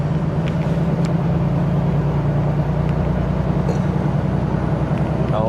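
A Volvo FH Aero 780 truck accelerates on a road in Greece, its heavy, loud engine drone building steadily with road noise, heard from close by in the cab.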